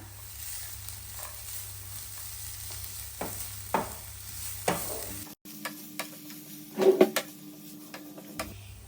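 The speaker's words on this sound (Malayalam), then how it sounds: "എന്നിട്ട് നമുക്ക് നന്നായിട്ടൊന്ന് ഇളക്കി കൊടുക്കാം" Banana mixture with cardamom powder is stirred in a pan, with soft scraping strokes over a steady low sizzle and several sharper clinks of the spoon against the pan near the end.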